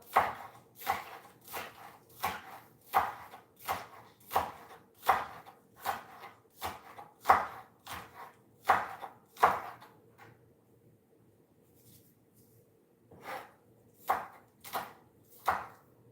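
A knife chops scallions on a board in a home kitchen in a steady run of about fifteen crisp, close strikes, then pauses for a few seconds before three more chops.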